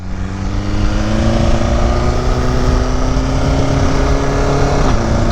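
A tuned BMW S1000RR sportbike engine under way, a loud, steady, close-up drone with clear harmonic tones that rise slowly and then dip near the end as the revs shift.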